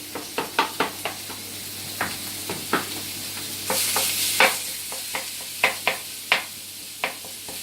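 Beef mince browning in a hot pan for bolognese and chilli: a continuous sizzle broken by a series of sharp spatula scrapes and taps as the meat is broken up and stirred, close and fairly loud.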